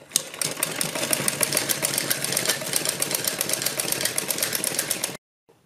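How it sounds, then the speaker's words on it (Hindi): A sewing machine runs close up for about five seconds as it stitches a fabric strip onto a kurti. The needle beats fast and steadily without a break, then the machine stops abruptly. "दोनों साइड इसी तरह से हमें सिलाई लगानी है।"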